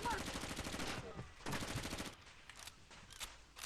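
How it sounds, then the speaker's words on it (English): Automatic gunfire in the video game Far Cry Instincts Evolution, running on the XEMU emulator: loud, rapid bursts of shots with short pauses between volleys, fading into quieter scattered shots. "Now we can start shooting away."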